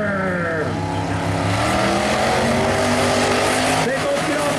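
Mud race vehicles launch side by side off the line at a speedway, loud sustained engine roar with rising revs and gear changes, under an excited announcer's voice.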